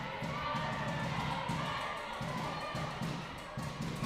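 Rival crowds at a women's college volleyball championship semi-final shout and roar continuously in a large gym to rattle the server, forming a dense, steady wall of crowd noise with faint thumps.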